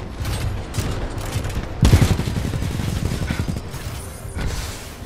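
Gunfire in the Titanfall 2 campaign: sustained rattling automatic bursts with a heavier burst midway, continuous and fairly loud over game ambience, no talking.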